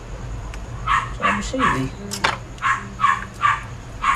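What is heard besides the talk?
dog barking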